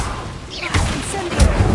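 Fire spell cast in Hogwarts Legacy: a soft whoosh builds, then two dull magical bursts thump out in quick succession, close and moderately loud over a low rumbling game ambience.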